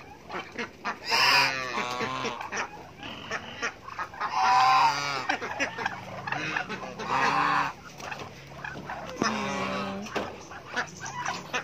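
Several ducks on a small farm quack loudly in bursts, nearby and overlapping, with short pauses between the noisy squawking calls.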